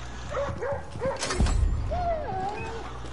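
Dog barks, yips and whimpers in the video game Far Cry New Dawn, several short close yelps and whines with a louder burst midway, over steady game background noise.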